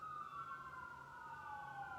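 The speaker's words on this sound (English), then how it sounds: "I don't often get sirens right outside my window like that." Wailing emergency sirens sound steadily outside a window in the middle of a town, their pitch sweeping slowly downward as the vehicles pass, moderately loud and continuous, with no talking.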